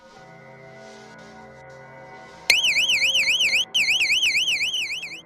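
A loud electronic home burglar alarm suddenly blares after a quiet stretch, its warbling tone rising and falling rapidly and continuously, with one brief break.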